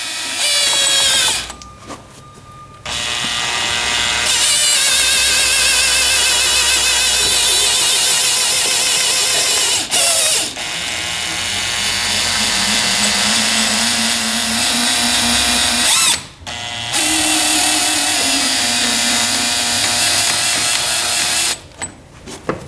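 A massage chair mechanism's rolling motor drives down its track with a loud, steady electric whir, cutting out briefly several times before restarting.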